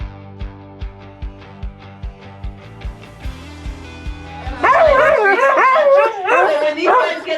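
Sled dogs bark and yelp loudly and excitedly in a pack, a dense close chorus of overlapping barks and whines rising after a stretch of rhythmic thumping noise.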